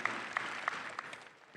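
Applause from the audience at a 2025 high school graduation ceremony, a brief burst of fairly faint, diffuse clapping that thins out toward the end.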